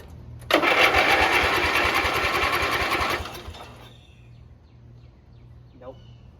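An old lawn mower engine that sat unused for many years is cranked, giving a loud rapid churning burst for about three seconds that fails to catch, followed by quiet.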